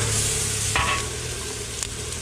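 Chow mein frying at a momo street stall in Dehradun, a loud close sizzle with a sharp clatter of utensils partway through and the hiss continuing after.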